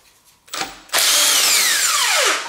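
An impact driver loosens the timing chain bolts on a BMW 3 series engine: a brief whir, then a loud sustained whine that winds down as the bolt spins free.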